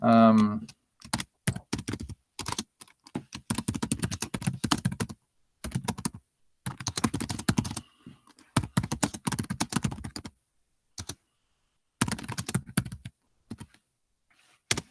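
Typing on a computer keyboard in bursts of quick, crisp keystrokes separated by short silences, heard close and fairly quiet throughout, with no speech over it.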